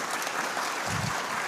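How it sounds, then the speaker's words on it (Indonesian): Brief burst of audience applause at the 2023 LDII national working meeting, a short wash of dense clapping from a large crowd, moderately loud. "Boleh tepuk tangan buat semuanya"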